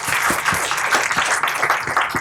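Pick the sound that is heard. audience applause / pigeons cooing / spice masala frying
audience applause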